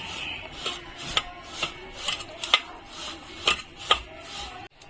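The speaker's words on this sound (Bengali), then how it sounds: "সুজি আর টক দইটা আমি ভালো করে মেখে নেব" Semolina and sour yogurt are worked together in a bowl, giving a series of close scraping and tapping strokes of a utensil against the bowl at an uneven rhythm, with no talking.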